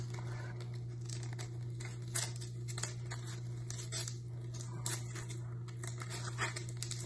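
A sheet of craft foam being rolled up for a giant foam lily, giving soft crinkling and scuffing rustles that come and go over a steady low electrical hum, close up, with no voices.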